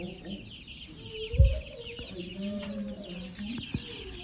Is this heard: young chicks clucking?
yes